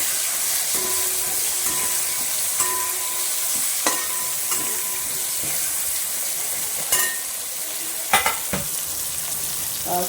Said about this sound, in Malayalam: നമ്മുടെ സവോള അരിഞ്ഞ വെച്ച സവോളയിൽ നിന്ന് ഒരു പകുതിയോളം ഞാനിങ്ങനെ ഇട്ട് കൊടുത്തിട്ടുണ്ട്